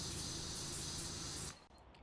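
A pressure washer in the video game PowerWash Simulator 2 sprays in a loud, steady hiss that cuts off abruptly near the end, leaving quiet background.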